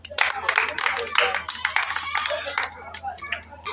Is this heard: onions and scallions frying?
no